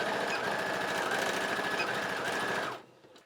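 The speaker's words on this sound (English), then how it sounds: "Take it to your sewing machine and sew down about 1 inch" A sewing machine runs in a fast, steady mechanical rhythm, stitching ribbon for a bow garland continuously at close range, then stops abruptly near the end.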